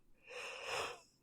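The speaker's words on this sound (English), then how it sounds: "We're gonna need to edit out your yawning." One faint, breathy yawn from a person, rising and falling over about a second, heard close by in an otherwise quiet room with no talking.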